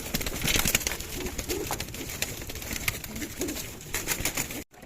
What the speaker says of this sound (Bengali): আজকে একটা আমরা বুনো পায়রা ধরেছি এই যে বুনো পায়রা ধরে দেখাই